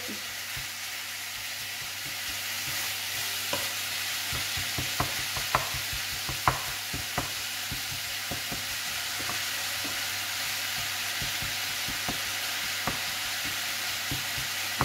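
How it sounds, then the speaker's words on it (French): Minced beef for tacos frying in a pan, a continuous close sizzle broken by repeated sharp scrapes and taps of a spatula stirring the meat, without any talking. "La viande elle cuit quand même assez vite"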